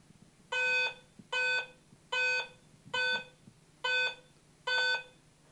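A metal detector in standard mode sounds over two closely spaced objects that register as a single target. It gives six evenly spaced, identical bright tones, each about half a second long, against a faint low hum.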